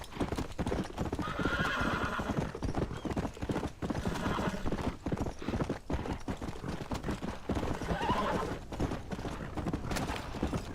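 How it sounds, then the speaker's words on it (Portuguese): A horse gallops with a fast, steady clip-clop of hooves in the Red Dead Redemption video game, close and continuous, with whinnies and neighs breaking in along the way. "Depois a gente arruma um cavalo mais da hora, mais resistente, que esse aqui é bem fraquinho."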